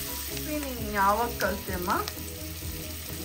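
Onions sizzle in a hot pan for a village-style tender jackfruit curry, a steady close frying hiss that runs throughout while a person speaks briefly over it.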